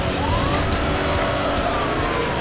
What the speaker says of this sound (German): Ich glaube, man sieht, dass ein Polizeiauto kommt.